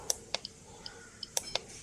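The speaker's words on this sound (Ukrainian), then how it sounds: "Гучність залишимо, клацання, щоб ви чули." A Geiger counter dosimeter clicking up close: about seven sharp, irregularly spaced ticks in under two seconds over a quiet background, with no talking.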